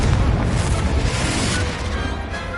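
The Confringo blasting spell goes off in a Harry Potter video game as a loud, sustained booming explosion that rumbles densely for about two seconds before easing slightly.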